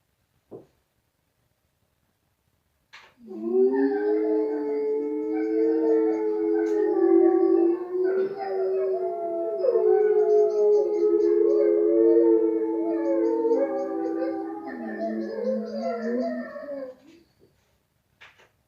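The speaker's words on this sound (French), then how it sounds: "Ça, c'était le loup qui hurle." Several long, wavering howls rise and fall together, layered like a pack of wolves, sustained for over ten seconds before ending abruptly.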